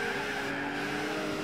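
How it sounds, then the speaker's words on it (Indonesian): A Jaguar race car in Gran Turismo 4 roars loudly with a sustained high engine drone and steady harmonic whine, holding near-constant pitch for the whole moment. "Suara kenceng banget si Jaguar."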